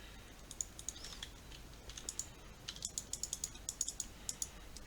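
Keyboard and mouse clicking in quick irregular bursts, sharp close taps scattered across the whole stretch, quiet with no talk over them.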